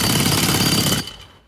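A jackhammer breaking up asphalt, concrete or reinforced concrete on a construction site hammers loudly and continuously at close range, then cuts off and fades in the last half second.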